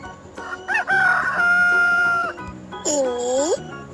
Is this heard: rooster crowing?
yes